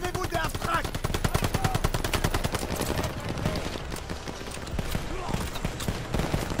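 Dense, rapid automatic gunfire in a Call of Duty Vanguard campaign battle at a bunker and minefield, a loud continuous rattle of shots with faint voices mixed underneath.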